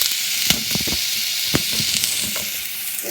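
Bacon and onion sizzle steadily in a hot pan, a continuous bright frying hiss with scattered pops and crackles throughout, close and fairly loud, with no voices.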